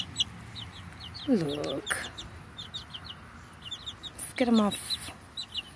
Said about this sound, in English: So I just caught the rooster.